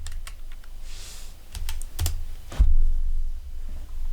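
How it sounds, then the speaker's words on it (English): Fingers tap out a web address on a computer keyboard in quick, uneven bursts of close, crisp clicks with short pauses between, and nothing else is heard. "So what I would do, I would try to type the URL."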